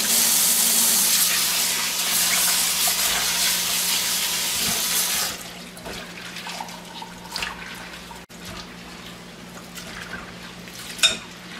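Cold water runs and splashes over salted onion being rinsed, a steady rushing gush for several seconds that then drops to softer drips and handling sounds.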